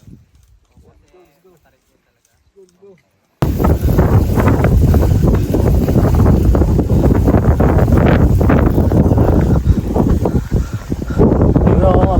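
Strong wind buffets the microphone in a loud, continuous roar after a few seconds of near silence with faint voices.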